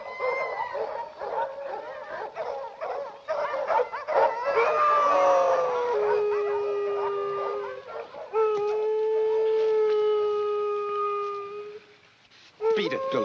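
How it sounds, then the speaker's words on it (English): Several dogs howl in long, wavering, overlapping tones with yips and whimpers mixed in, rising and falling over a steady background before a short pause and a final cry. "Don't know what's bellyaching those dogs."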